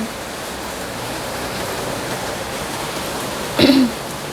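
Rain falls steadily outdoors near a tiled roof, a continuous even hiss throughout, with a brief throat-clearing sound near the end.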